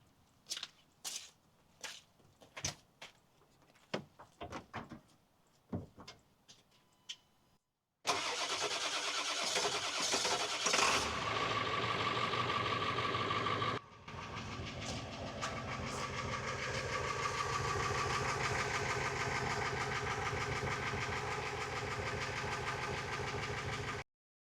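A 7.3 diesel truck engine struggling to start in cold weather: a long run of separate cranking bursts, then the engine catches with a loud roar, dips briefly, and settles into a steady, close idle.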